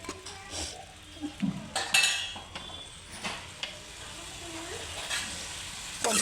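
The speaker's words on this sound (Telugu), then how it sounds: "కొంచెం మూత ఓపెన్ చేసుకొని మళ్ళీ ఒకసారి ఇలా కలుపుకోండి." Chili (mulakaya) curry with tomatoes and onions stirred in a pan, scraping spoon clinks and soft sizzling in irregular strokes, fairly close and quiet.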